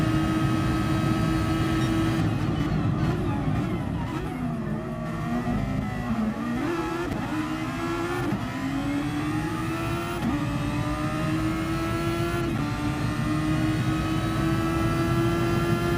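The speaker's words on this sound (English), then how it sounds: "Oh, I love the sound of these cars" Race cars roar and accelerate continuously, with an onboard engine note from Di Grasso's bright red Ferrari climbing through gears in a loud, sustained howl with repeated upshifts.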